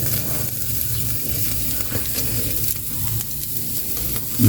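Galunggong fish grilling over heat, a steady close sizzle and crackle of fat with occasional faint clatter near the end.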